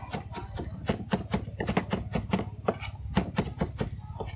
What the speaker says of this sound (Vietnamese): Mình sẽ bầm xả cho nó nhuyễn ra một chút, để nó to quá nó có sớ.